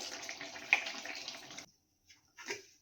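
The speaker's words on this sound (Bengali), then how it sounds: "এর মধ্যে জলটা দিয়ে দিই।" Water is poured into cooking chicken curry in a steady splashing stream that stops abruptly, followed by a couple of faint drips and a small splash, close and quiet.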